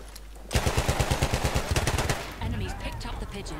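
Rapid bursts of automatic gunfire in the World War I shooter Battlefield 1, loud and close with evenly spaced shots for about two seconds, then a rougher stretch of distant battle noise.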